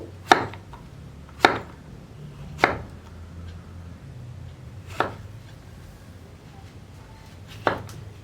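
A knife chops bottle gourd into small pieces on a cutting board: six sharp, separate strikes spaced unevenly, clear and close, with quiet kitchen background in between.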